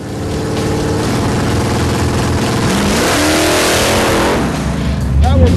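Chevrolet Camaro drag car with a tight torque converter revving hard against the brakes on a two-step ignition launch control, a loud steady staccato engine drone with pitch sweeps and a final rising surge.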